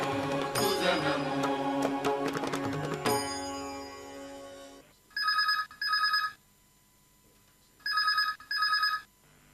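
After a burst of music fades, a telephone rings in two clear double-ring bursts, loud and close, separated by silence.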